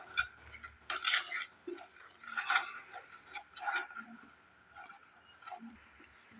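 Grated coconut and jaggery being stir-fried in a pan, with a spatula scraping and clinking against the metal in irregular bursts at close range, with quieter pauses between the strokes.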